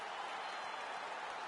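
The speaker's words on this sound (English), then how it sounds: "An appreciative crowd obviously getting behind both fighters" Crowd applause in the UFC 5 fighting game, a dense, steady wash of clapping and murmur at moderate level, continuous throughout with no distinct voices standing out.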